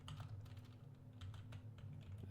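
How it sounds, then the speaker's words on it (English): Quiet computer keyboard typing, a quick series of soft clicks in uneven bursts over a low steady hum, no voices. "I'm just like typing things in real quick"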